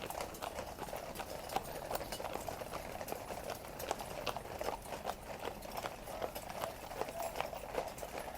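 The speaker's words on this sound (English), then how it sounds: "And we have some police horses behind." Police horse hooves clip-clop on pavement in a brisk, continuous rhythm, several animals close by, with faint background murmur.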